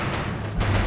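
Gunfire in the WWII strategy game Men of War: Assault Squad, a dense burst of shots and thumping impacts filling the moment with a heavier boom near the end.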